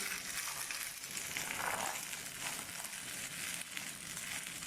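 Ingredients lightly frying in a pan without added oil or ghee, giving a dense, even sizzle that holds steady and close throughout, with no talk.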